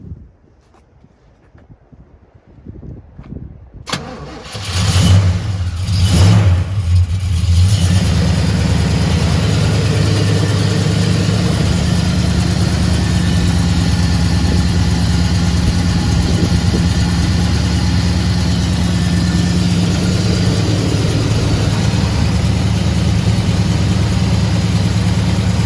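A 1970 Buick Gran Sport with a 350 engine and four-speed cranks briefly, catches, and settles into a loud, steady, rumbling idle heard up close for the rest of the time.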